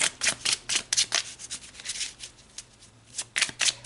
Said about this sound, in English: So let's pull some more cards.